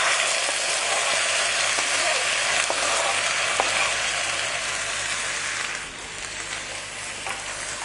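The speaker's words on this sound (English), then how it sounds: "Now we're going to let that simmer and just reduce down for about 10 minutes" Chopped tinned tomatoes simmer in a pan with a steady, bright sizzle and soft bubbling that holds evenly for several seconds, then eases slightly near the end, with no talking.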